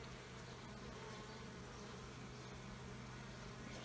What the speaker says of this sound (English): It's looking like there's quite a few bees in here.